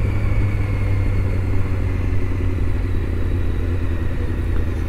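A Honda CBR 600 F motorcycle engine runs at a steady idle-like drone, a continuous low rumble with a constant pitch held close and loud throughout, no distinct revs rising above it.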